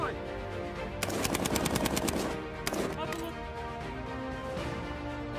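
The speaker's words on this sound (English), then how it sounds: "Let's go, get the guns going!" Rapid automatic gunfire from guns during military training: a fast burst of evenly spaced shots, then a second shorter burst, heard over a steady background of music-like drone with talk around it.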